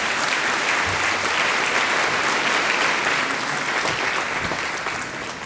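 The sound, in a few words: audience applause for award winners at gala dinner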